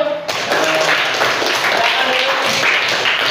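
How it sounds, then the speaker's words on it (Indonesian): Students in a classroom applaud group one after an Islamic studies presentation on the Prophet's Hijrah; loud, close, brisk clapping from a small group starts abruptly and continues steadily to the end. "tepuk tangan untuk kelompok satu"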